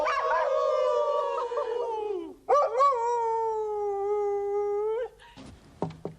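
A dog and people howl together: two long, wavering howls, the first sliding downward, followed by a few short yips and a clatter at the end.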